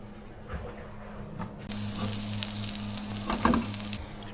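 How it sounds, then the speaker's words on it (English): Crumbed lionfish frying in butter in a new frying pan aboard a sailboat, a steady close sizzle that swells louder partway through and holds to the end, with no voices. "cooked in butter in our new fry pan"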